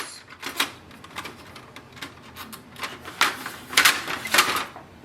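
Short plastic clicks and sliding scrapes from adjusting the paper guides in the 250-sheet tray of a Brother HL-L2460DW laser printer, several sharp clacks in an irregular sequence, close and without speech.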